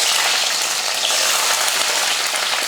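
Small onions and garlic sizzle in hot oil with fenugreek and curry leaves in a kadai, a steady, close, dense frying hiss with no pauses and no voices.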